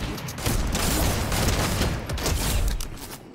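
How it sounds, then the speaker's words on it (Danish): Sustained heavy turret fire in Fortnite, a dense, loud, unbroken fusillade of rapid shots with mechanical clatter, rolling on for several seconds at close range. "Den der han dræbte mig med, den hedder en heavy turret."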